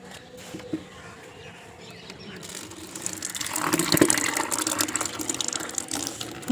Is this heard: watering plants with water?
yes